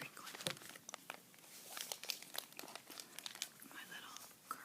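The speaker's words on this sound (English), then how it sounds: "Let's do some Crinkling." Crinkling plastic or paper is handled close to the microphone in an ASMR session, a steady stream of crisp, sharp rustles and crackles with no voice.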